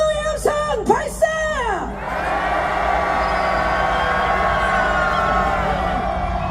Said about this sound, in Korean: 국힘당을 향하여 분노의 함성 발사